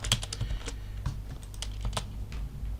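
Code is typed on a computer keyboard in a quick, irregular run of close, crisp key clicks with brief pauses between bursts.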